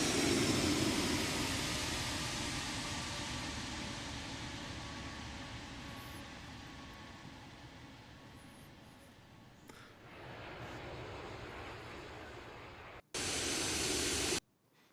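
A broad, roaring drone of four older, noisy aircraft engines in a sound simulation, loud at first and slowly fading, then dropping off and returning briefly before cutting out.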